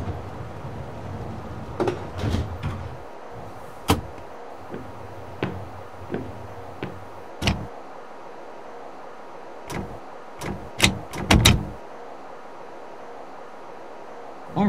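Doors on a CTA Chicago Brown Line train closing in the PS3 train game Railfan, a series of sharp mechanical clunks and thuds over low rolling rumble, with announcement speech around them.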